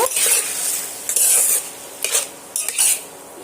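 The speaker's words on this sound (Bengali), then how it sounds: "চিংড়িগুলো দিয়ে আবারও আমি কড়াইয়ের সঙ্গে এইভাবে মাখিয়ে নেব" A utensil stirs shrimp and yardlong beans in a kadai wok in quick scraping strokes with small clinks, in several short bursts and pauses, with no talk.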